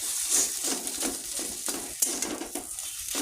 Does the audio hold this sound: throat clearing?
no